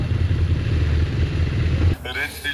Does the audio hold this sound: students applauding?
no